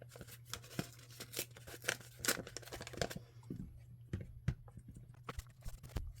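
Paper envelope ends being snipped off with scissors for a handmade journal, a run of close, crisp cutting and crinkling noises over a steady low hum, without talk.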